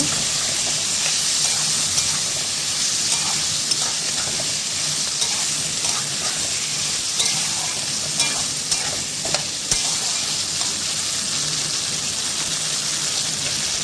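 Vegetables cooked with poured-in spice paste are stirred in a hot pan for a Bengali green-bean, potato and leafy-greens dish, giving a steady loud sizzle with scraping stirs and no talk.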